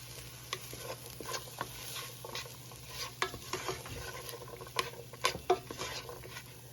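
Chopped vegetables and garlic sweating in a soup pot over a low flame for pasta fagioli, giving a steady gentle sizzle with scattered stirring scrapes and a few sharper clinks of utensil on pan near the end.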